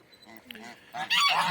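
Loud, harsh honking from farm geese, including a gander, starting softer and building into overlapping calls near the end.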